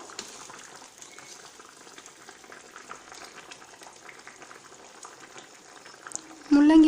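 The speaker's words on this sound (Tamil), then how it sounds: "குழம்பு நல்லா கொதி வருது." A pot of meat curry with radish simmers on the stove, giving a steady low bubbling and sizzle throughout, with a louder burst near the end.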